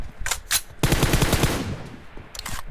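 Rapid bursts of automatic gunfire in a competitive esports shooter match, loud and close, with a short burst, a sustained stretch of fire, then another brief volley.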